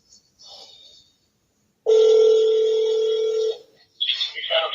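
Telephone line tones: a brief faint beep, then a loud steady ringback tone held for nearly two seconds, followed by a burst of warbling electronic tones.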